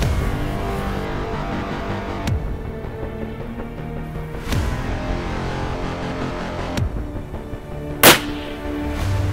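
A Victrix Gladius rifle in 6.5 Creedmoor fired on a range, four sharp cracks spaced a couple of seconds apart, the last one loudest, over a steady background hum.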